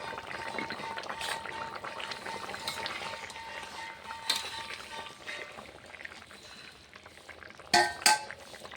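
A pointed gourd and paneer curry made with cashew paste simmers in a pot with soft, continuous bubbling. Occasional light clinks of utensils break in, and a sharper clatter comes near the end.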